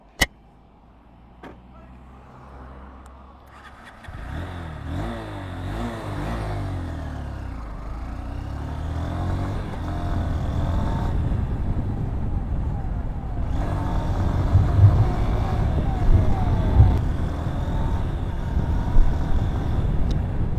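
A Honda Hornet 2.0 184cc motorcycle pulls away after a quiet start. A steady engine drone and road noise build and hold loud and continuous through the ride, with no talking.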